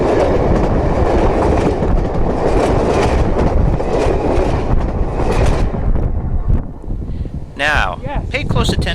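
A train roars past close by, loud and steady with rattling wheels and wind buffeting, then fades as a voice shouts over the end.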